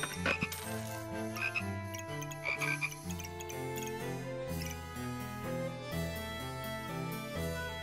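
Frog croak effect in the video game Backpack Battles, repeated croaks over a steady tonal game music loop, moderately quiet with no talking.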